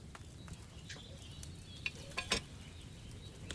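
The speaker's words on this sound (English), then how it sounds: "Hear that bubbling? It's boiling." A cauldron bubbles over a flame in the video game Kingdom Come Deliverance 2: a steady low simmer of fizzing bubbles with a few sharper pops near the end.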